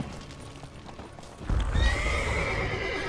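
Roach the horse in The Witcher 3 clip-clops with hoofbeats and lets out a whinny that rises suddenly partway through, loud and close over a murmur of game ambience.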